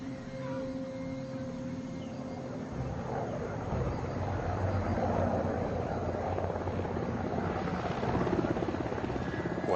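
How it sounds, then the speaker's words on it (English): Helicopter approaching from far away, its rotor drone a low, steady throb that grows gradually louder over several seconds with no voices. "And then I see a tiny dot of a helicopter."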